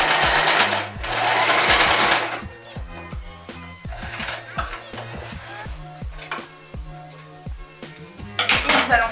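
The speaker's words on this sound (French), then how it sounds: "nous faisons également un point zigzag" A sewing machine runs a zigzag stitch over elastic on a fabric face mask, its rapid needle chatter coming in loud bursts with short pauses and quieter stretches between, close up and without talk.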